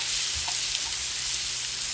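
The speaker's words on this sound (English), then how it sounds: "Okay, I'm going to put some onion in there." Diced onion frying in sesame oil in a pan, giving a loud, continuous close-up sizzle with faint crackles throughout and no voices.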